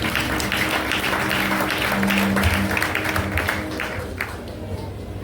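Steady crowd applause fills a church during a harvest festival service for several seconds, a dense patter of clapping with a faint low hum underneath before gradually thinning out.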